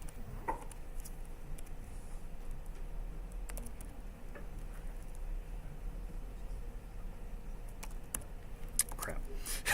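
Typing on a computer keyboard in a quiet room, sparse faint clicks and taps scattered irregularly over a low background hum.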